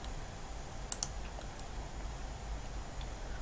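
Two quick, sharp computer mouse clicks close together, followed by a few fainter ticks over a low steady background hum with no talking.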